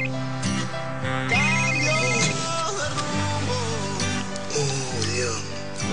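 Telephone ringing while a call is placed, a loud, close, repeating melodic ring tone with pulsing electronic notes that continue through the clip, with some voices underneath.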